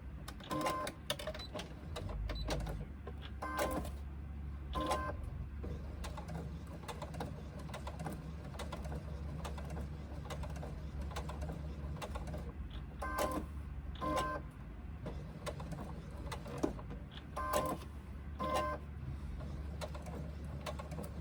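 A sewing machine fitted with a walking foot stitches through vinyl, its low steady motor hum running under bursts of rapid needle clatter that start and stop through the stretch.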